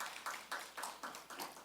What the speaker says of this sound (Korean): 군대 생활 잘하고 오라고 박수로 한번 격려해 주시면 좋겠습니다.